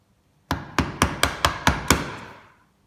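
A chisel struck with a mallet while carving a wooden spatula, seven sharp, close, evenly spaced knocks in quick succession, each with a short ringing decay.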